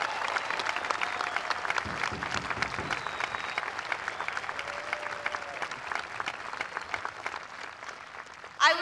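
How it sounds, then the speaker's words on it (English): An audience at a high school commencement ceremony claps steadily for graduation honorees, a sustained wash of applause from a large crowd lasting throughout. "Audience, please give our CSF honorees a round of applause."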